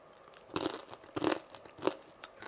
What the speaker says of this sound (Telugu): అలానే తిని చూద్దామండి ఎంత క్రిస్పీగా వచ్చిందో మీరు చూడండి సౌండ్.